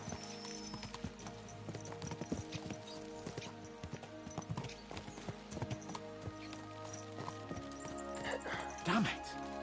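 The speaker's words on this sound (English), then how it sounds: "Let's really spur these horses on, eh?" Rhythmic hoofbeats of horses clip-clop steadily over a busy layered backdrop in the video game Kingdom Come: Deliverance II, with talking on top and a brief whinny near the end.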